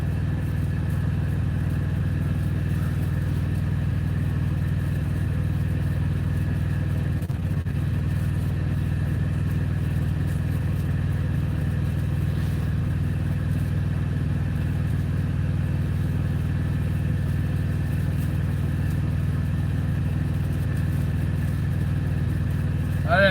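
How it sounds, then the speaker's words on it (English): Steady traffic on a small road in Jackson, Mississippi on a warm evening, a continuous low engine rumble of cars and motorcycles rolling past at moderate distance, holding level throughout with no distinct pass-bys standing out. "Quite a bit of traffic on this little road, actually."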